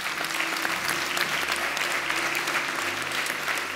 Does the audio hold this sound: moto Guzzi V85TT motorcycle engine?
no